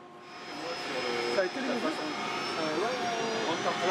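Steady drone of an ATR-42 turboprop research aircraft fitted with atmospheric observation instruments, heard from inside the cabin as a constant hum with a high whine, while people talk over it.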